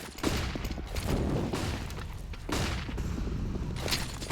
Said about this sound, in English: So many flashbangs going off